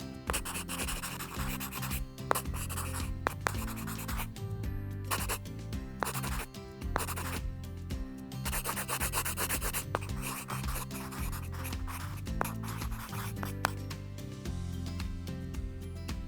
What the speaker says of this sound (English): first I'm going to draw one for you.